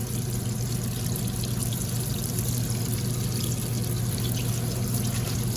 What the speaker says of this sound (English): You're just gonna drop them, pick them up and drop them gently.